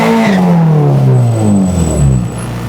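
Honda Civic doing a second gear burnout, the engine very loud and close, its droning pitch sliding downward as the tires spin, with a faint high whine above it.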